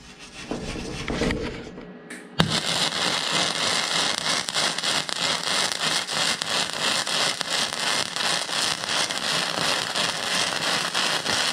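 Arc welding on a steel shipping container crackles and sizzles loudly and continuously after a sudden strike, a dense, steady frying hiss that runs to the end.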